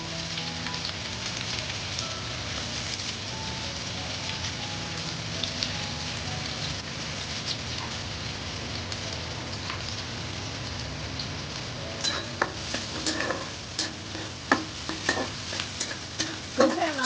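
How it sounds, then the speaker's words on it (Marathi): Onion hitting hot oil already fried with curry leaves and cumin for a dried-fish curry, a steady bubbling sizzle that grows busier and crackly toward the end, with occasional stirring clatter and no talk. "आता मी कांदा टाकत आहे"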